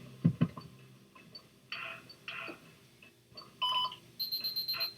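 Electronic beeps from the Night Trap video game ring out in short bursts, first a few lower tones, then a sustained high tone and a rapid series of repeated pulses near the end, moderately loud with no talk.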